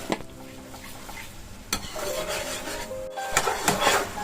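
Chicken in a marinade of ginger paste, garlic paste and yogurt fries in a pan, with close scraping strokes as it is stirred over a rising sizzle. The clinks of the utensil are loud and unaccompanied by talk.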